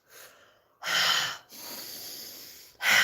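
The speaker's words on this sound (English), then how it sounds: "start breathing in through your nose." Deep breaths drawn in through the nose during a guided relaxation exercise, heard close up as several long, airy inhalations separated by brief pauses.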